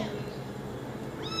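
A white cat meows briefly and up close, a single short rising call near the end, heard over a quiet room with a faint murmur of voices.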